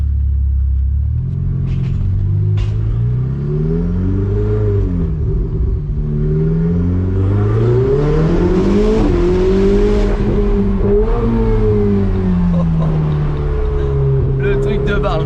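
A Ferrari 488 GTB engine revs and roars continuously, rising and falling in pitch as it accelerates, loud and close throughout.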